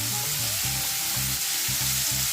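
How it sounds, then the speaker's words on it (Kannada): Chopped onions hit hot oil and fry with a loud, dense, continuous sizzle close by, with faint stirring pulses underneath and no talking. "ಇದೇ ಕಾದಿರೋ ಎಣ್ಣೆಗೆ ನಾವು ಕಟ್ ಮಾಡಿ ಇಟ್ಕೊಂಡಿದ್ವಲ್ಲ ಆ ಈರುಳ್ಳಿನ ಹಾಕೋಣ."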